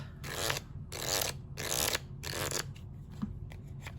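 Oracle cards are shuffled in four steady bursts of riffling, close and moderately loud, followed by softer handling as cards are drawn.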